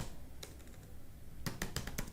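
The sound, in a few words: typing Java code on a computer keyboard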